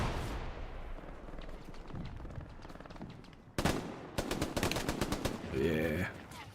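Mounted machine gun in the World War II shooter Hell Let Loose, firing rapid bursts and scattered shots amid the rumble of battle, growing denser and louder toward the end.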